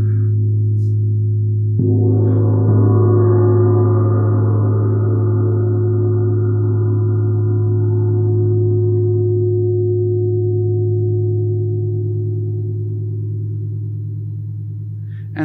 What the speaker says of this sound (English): So this is the sound of the synodic moon.